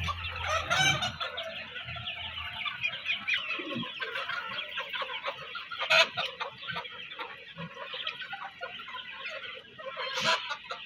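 A flock of farm chickens clucks and chatters continuously at close range, with a rooster crowing among the busy overlapping calls.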